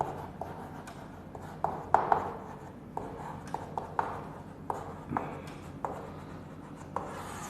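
Someone writes on a board during a biology lecture, with intermittent scratchy strokes and sharp taps spaced over several seconds against a quiet room tone.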